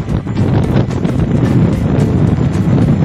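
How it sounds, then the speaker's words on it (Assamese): Strong wind during a night car drive buffets the microphone as a steady, loud low rumble with gusty fluttering, continuous and without voices. "বতাহ বহুত বলি আছে"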